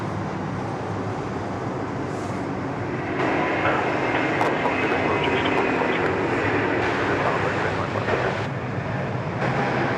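A China Southern airliner begins its takeoff roll at Sydney Airport, a broad steady jet roar that swells and holds from a distance, with faint voices underneath.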